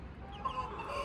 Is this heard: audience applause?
no